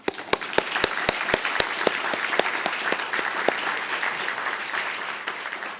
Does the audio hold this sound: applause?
yes